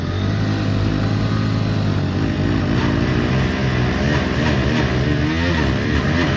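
Two Bajaj motorcycles, a Pulsar NS 200 and a Pulsar 150, roar together in a rope tug of war, giving a steady, loud, close engine drone with no letup.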